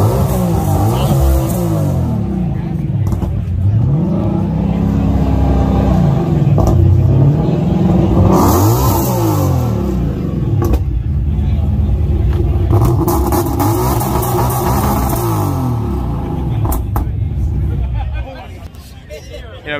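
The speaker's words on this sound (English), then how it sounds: "That's actually a race spec Mustang, which is really cool." A race-spec Ford Mustang at a Caffeine and Octane car meet in Atlanta revs its engine loudly and close by, the roar rising and falling in repeated surges over steady crowd chatter and people talking.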